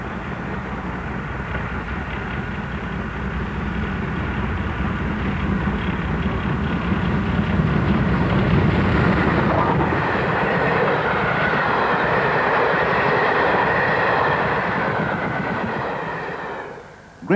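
GWR steam locomotive Burton Agnes Hall hauls the Cathedrals Express on its home route from Didcot, a continuous rushing rumble of engine and carriages that builds slightly, then trails off sharply at the end.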